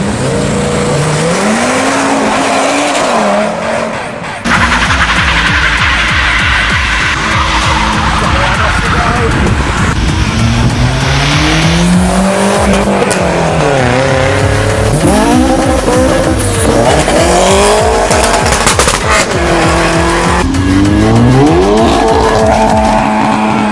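At a street car meet in Croydon, a supercharged car revs hard and slides, its engine rising and falling in loud sweeping pitches with continuous tyre squeal, a crowd's noise underneath throughout.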